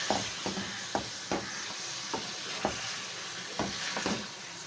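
Mutton frying in oil in a kadai for Peshawari karahi, a steady sizzle punctuated by repeated sharp spoon clacks and scrapes against the pan every half second or so, close and alone without voices.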